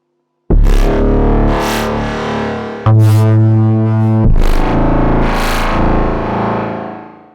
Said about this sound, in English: It's kind of like ripping metal kind of sound.